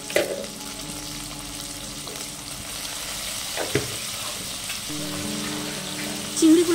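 Small shrimp seasoned with salt and turmeric fry in oil with a steady, fairly loud sizzle and some stirring scrapes, a brief clatter near the end, no voices.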